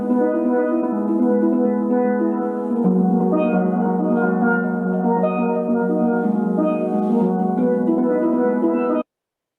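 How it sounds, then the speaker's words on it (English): A double tenor steel pan plays a sustained melodic passage alone, bright ringing metallic notes rolling continuously at steady loudness for about nine seconds before stopping. "a double tenor would sound like this."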